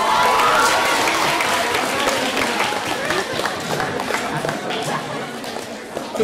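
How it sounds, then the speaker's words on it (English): An audience at a school talent show final claps steadily, a dense, even round of applause that holds at a moderate level throughout. "Give yourselves a round of applause."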